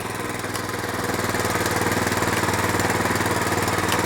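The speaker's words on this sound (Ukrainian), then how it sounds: "додам йому трохи обертів" A walk-behind tractor engine is revved up close, a loud, dense, rattling roar with fast regular firing pulses that grows slightly louder and holds steady, with no voices.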